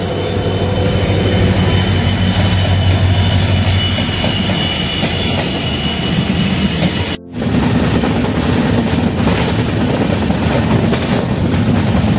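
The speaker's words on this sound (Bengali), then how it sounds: "এবার আমাদের সাথে দেখা হয়ে গেল 15467 শিলিগুড়ি জাংশন থেকে বামুনহাটগামী ইন্টারসিটি এক্সপ্রেস" An Intercity Express train from Siliguri Junction to Bamanhat rolls past on an Indian railway, loud and close, with continuous rumbling wheels, rhythmic clatter and faint squeal throughout.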